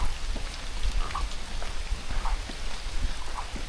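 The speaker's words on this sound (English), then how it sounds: "And it's really raining today." Heavy rain pours over a New Zealand bush campsite, a dense, steady hiss with scattered close drips and patters, continuous and fairly loud, no voices.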